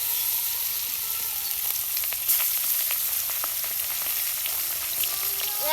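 Hilsa fish pieces frying in hot oil in a pan, a loud, steady close-up sizzle with scattered pops and crackles running the whole way through, no talking.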